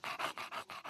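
An English Bulldog panting quickly in short, rhythmic breaths, about five huffs in a second, close and soft.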